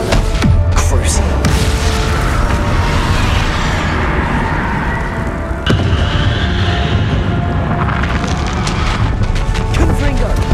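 Heavy, sustained blasts of the Bombarda explosion spell in Hogwarts Legacy combat, with dense rumbling booms and one sharp burst midway over continuous loud battle noise.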